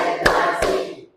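Two crisp hand claps roughly a third of a second apart, struck together in a classroom during a teacher's counted clapping drill, close and loud, then a short ringing decay into quiet.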